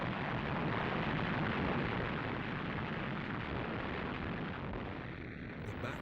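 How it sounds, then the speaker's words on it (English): A British artillery bombardment on Rommel's positions at El Alamein in 1942, heard as a dense, continuous rumbling roar of guns, heavy and unbroken, slowly easing toward the end. "the British opened up an artillery bombardment on Rommel's positions"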